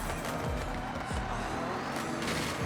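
Race car in Forza Horizon braking into a corner, with a loud sustained engine drone and tire noise filling the whole stretch without pause.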